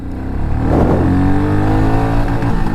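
A Royal Enfield Meteor motorcycle engine revs hard and close up, its pitch climbing and holding steady in a smooth, continuous roar with no voices over it.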